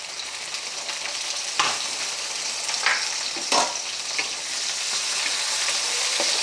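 Onion and tomato sauté in hot oil in a pan, a steady close sizzle broken by occasional scraping stirs of a spatula.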